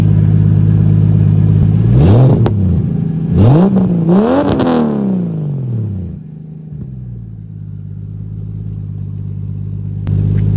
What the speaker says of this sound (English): I'll give it a couple revs here, let you guys hear it